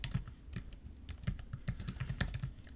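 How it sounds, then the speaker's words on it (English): Rapid clicking keystrokes on a computer keyboard clatter close up in an irregular steady run, with occasional heavier thumps like the space bar, no voices. "I'm going to type in here Brother Howard's introduction."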